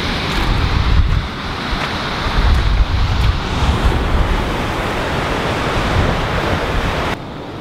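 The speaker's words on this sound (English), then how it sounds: "Day three, we're going to Brighton Beach." Waves wash in and out at Brighton Beach in Duluth, Minnesota, as a constant loud roar of surf under heavy wind buffeting the microphone, with a few stronger gusts and surges.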